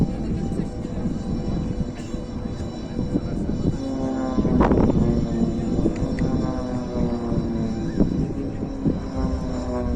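Pilatus PC-7 propeller aircraft of the Swiss PC-7 Team flying a formation display at NATO Days 2023, a loud droning engine roar with a rising then falling pass near the middle.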